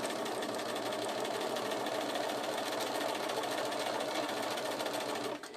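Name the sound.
sewing machine stitching fabric pieces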